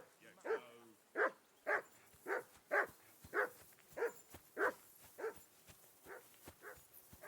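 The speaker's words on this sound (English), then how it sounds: "I assume you can hear that damn dog of yours barking." A dog in the medieval game Kingdom Come: Deliverance 2 barks in a steady series of about a dozen sharp, evenly spaced woofs at moderate distance, with no talk over them.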